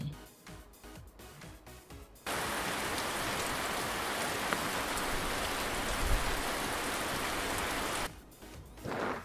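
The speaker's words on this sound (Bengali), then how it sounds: "ছাতা মাথায় বৃষ্টি পড়ে" Steady rain falls in a dense hiss for several seconds, cutting in abruptly and stopping just as suddenly near the end.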